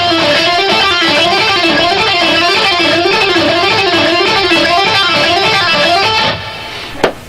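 Electric guitar playing a fast repeating rock sequence of picked notes, pull-offs and hammer-ons, loud, steady and rhythmic for about six seconds before it cuts off with a final sharp click.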